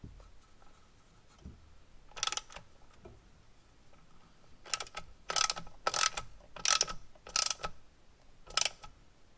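A ratchet tightens a ground wire bolt on a 2020 Subaru WRX, one short burst of clicking followed by a quicker run of five more crisp bursts, close and clear in a quiet space.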